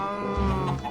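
A Minecraft cow in a pen gives a single short, low moo, close and clear, lasting about a second.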